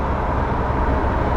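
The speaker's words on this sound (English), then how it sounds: "you can still hear that gorgeous 3-liter displacement" A 1973 BMW 3.0 CSL with a 3-liter engine driving, a steady low broadband rumble of engine and road noise filling the cabin, continuous and fairly loud with no talk.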